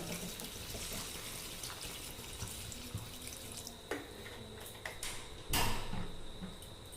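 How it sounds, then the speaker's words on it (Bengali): About two cups of water poured into a cooking pot make a steady splashing, running-water sound, close by, with a louder gush near the end and no voices. "এবার দিয়ে দিচ্ছি 2 কাপ মতো জল।"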